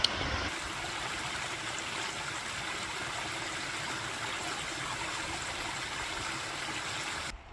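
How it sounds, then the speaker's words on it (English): Mosquito Creek, a stream along a hiking trail, flows with a steady, dense rushing and trickling of water, close and unchanging throughout. "So this is Mosquito Creek,"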